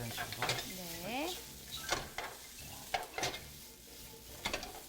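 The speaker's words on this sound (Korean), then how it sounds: "날것을 넣어가지고 이런 식으로 볶아요." Raw meat stir-fried in a large pot for Japanese home cooking, with close, repeated scraping and stirring clatter over a soft sizzle, plus a brief voice and utensil knocks.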